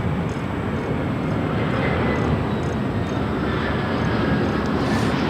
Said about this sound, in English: now on the downwind, flying over West Los Angeles, just moments away from touching down up here on the north side